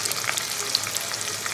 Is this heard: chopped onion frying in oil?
yes